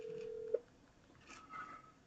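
A telephone call connecting over a line: a brief steady tone ends in a click, followed by faint line noise and a soft distant voice.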